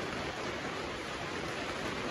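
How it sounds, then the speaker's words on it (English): Rain falling outside a French farmhouse, a steady soft broadband hiss with no distinct drops, moderately quiet and uninterrupted. "But you could hear the rain."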